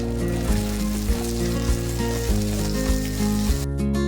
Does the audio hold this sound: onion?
yes